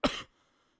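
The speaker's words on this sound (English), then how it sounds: "You just coughing into the air." A single close, loud cough bursts out with a throat-clearing rasp, lasting a quarter second before dying into near silence.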